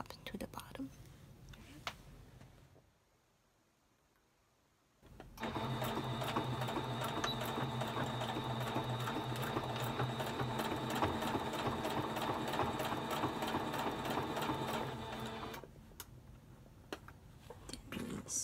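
A sewing machine runs a seam down a one-piece fabric octagon face mask, a close, steady rapid stitching burst lasting about ten seconds after a brief quiet pause, with soft talk before and after.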